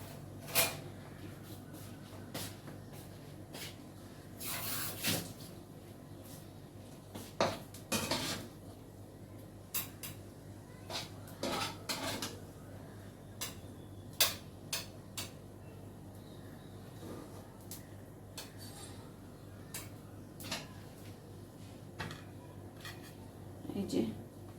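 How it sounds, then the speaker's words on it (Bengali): Dishes and utensils clink and clatter as cooked vegetables for pav bhaji are served into a bowl, a scatter of sharp taps and knocks at close range, with occasional soft speech. "আমি বাটিতে করে সবজিটা দিয়ে দিচ্ছি।"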